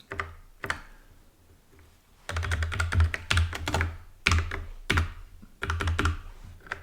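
Rapid bursts of typing on a clicky computer keyboard while writing COBOL code, dense clusters of keystrokes separated by short pauses, close and fairly loud, with no talking.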